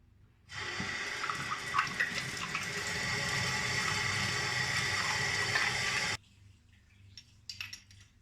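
Steady water pours over a brass lamp being rinsed clean, a continuous splashing rush that runs for several seconds and then cuts off, leaving faint drips and small clatters.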